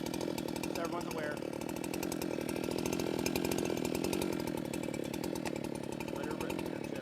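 A Husqvarna 390 XP chainsaw running at a steady, loud, buzzing idle-to-high rev for the whole stretch, with voices faintly beneath the engine.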